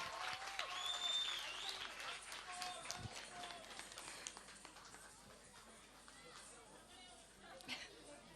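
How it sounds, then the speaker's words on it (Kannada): An audience at a classical dance recital program applauds in a steady, fairly distant wash of clapping, mixed with crowd chatter and voices. "ಜೋರಾದ ಚಪ್ಪಾಳೆ"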